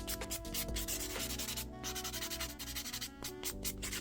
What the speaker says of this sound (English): Buffing will be my last step. I'll just get rid of the shine.